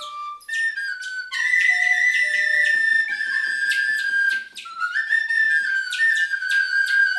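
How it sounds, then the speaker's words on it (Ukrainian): A small ceramic clay toy whistle is blown in a run of shrill, clear tones that hold, stop and jump between pitches, loud and close with brief gaps between notes. "В даному випадку це може бути свистулька"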